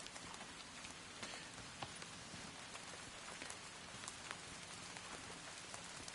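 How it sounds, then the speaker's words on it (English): Steady rain falls in the Bootstrap Island survival game, a soft, even hiss of drops that runs unbroken and fairly quiet with no voices over it. "it is raining"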